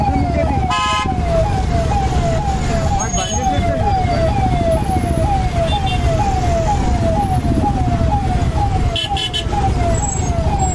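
A vehicle siren wails in a steady rapid rising sweep, repeating throughout amid loud road and traffic noise, with no speech over it.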